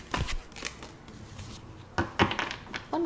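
Tarot cards handled during a reading, with several short papery slaps and shuffling bursts spaced irregularly, close and fairly quiet.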